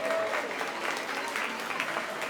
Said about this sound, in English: Give Annie Beth a round of applause.